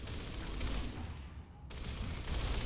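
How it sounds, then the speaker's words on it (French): Enemy gunfire in Gears of War, a steady wash of rapid shots at moderate loudness with a short lull midway, no speech. "Il est où, le bâtard qui me tire dessus"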